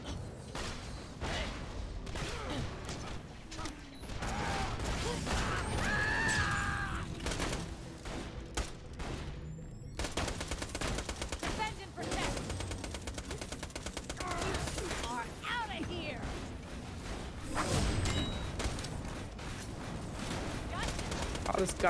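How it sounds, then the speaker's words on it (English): Gunfire from a gun in the video game Borderlands: The Pre-Sequel crackles in rapid, dense bursts alongside mechanical clicks, with a voice talking over it. "This gun fires at the speed of ass."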